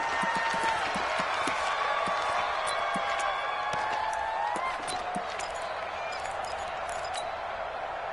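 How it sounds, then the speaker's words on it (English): Stadium crowd noise at Arrowhead during a football video game, a steady dense roar with whistle-like tones and scattered claps, loud and continuous throughout, easing slightly after a few seconds. "this is where the Arrowhead crowd can make it very tough"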